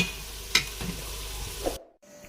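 A spoon stirs khara masala beef gosht in a pot with a soft, low sizzle and a few faint scraping knocks, quiet and close, with no talking.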